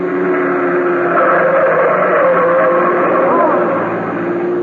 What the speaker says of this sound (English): There's a car coming right through that red light.